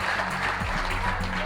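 An audience at a French-language school quiz match between girls' high schools gives a short round of steady applause, heard beneath a voice.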